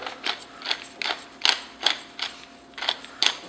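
Black pepper being ground in a grinder while cooking: rhythmic, close mechanical cranking bursts, about a dozen gritty turns in steady succession.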